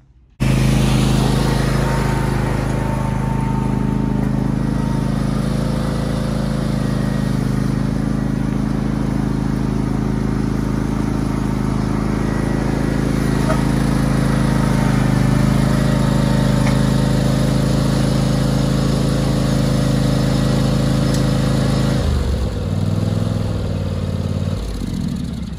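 A John Deere tractor pulling a loaded dump cart drones steadily and loudly close by for the whole stretch, holding an even pitch before briefly shifting near the end.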